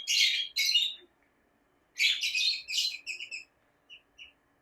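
Forpus parrotlets and lovebirds at a bird farm give sharp, close chirps and squawks in short bursts with gaps of quiet between them, and no one talks.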